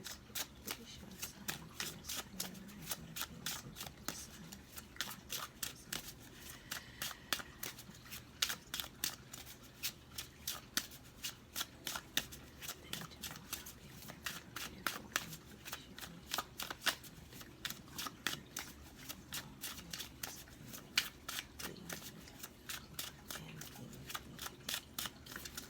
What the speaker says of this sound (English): we're going to shuffle 3 more times